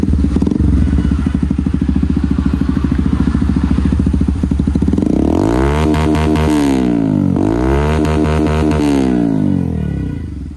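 A Hero Xtreme 125R motorcycle fitted with an Akrapovic-style MS pipe exhaust runs steadily at idle, then revs up and falls back twice in a smooth, moderately loud burble, heard close by with no talk.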